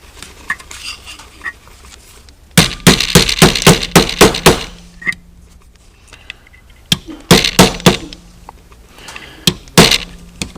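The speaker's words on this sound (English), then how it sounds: "Reinstall the sear housing pin." A sear housing pin is tapped back into an XDS pistol frame with sharp metallic knocks, close and loud, coming in two quick clusters of rapid taps separated by a short pause.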